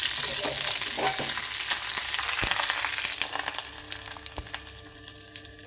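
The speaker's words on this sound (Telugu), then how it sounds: "నెయ్యి కరిగిన తర్వాత జీలకర్ర, కరివేపాకు ఇలా చెట్పట్లు ఆడిన తర్వాత దానిలో వేసేస్తున్నానండి ముద్దపప్పులో" Ghee tempering with cumin seeds and curry leaves crackles and sizzles as it is poured into mashed dal, with a dense frying hiss and sharp pops, close and steady, and no talking.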